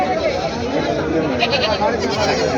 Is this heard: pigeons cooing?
no